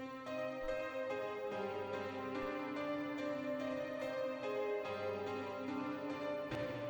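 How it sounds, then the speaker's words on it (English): Nexus Nebula Piano patch in a trap beat playing a simple one-note progression, soft sustained notes changing every second or so under a quiet, even mix. "I started off with the Nebula Piano from like the Nexus piano pack."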